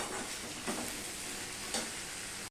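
Onion and potato fry together in a pan with a dense, even sizzle close by, and two brief stirring scrapes break in partway through.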